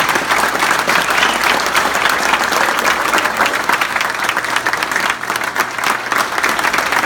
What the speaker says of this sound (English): Big round of applause, man.